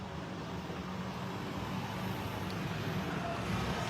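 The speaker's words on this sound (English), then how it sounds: "I'm sorry, guys, for the traffic noise" Steady road traffic noise outdoors, a constant low rumble of passing cars and heavier vehicles at moderate distance with no distinct individual passes.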